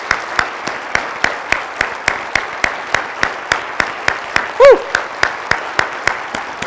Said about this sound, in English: we want to do a round of applause.